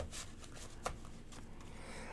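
A deck of Lenormand fortune-telling cards is shuffled by hand during a tarot reading, giving a soft, steady papery riffling for about two seconds with one sharper snap partway through. No one speaks.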